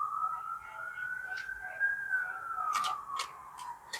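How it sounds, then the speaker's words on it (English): A distant police siren wails in a slow rising and falling tone, faint and steady under light background noise, with occasional clicks. "I'm hearing the sirens still."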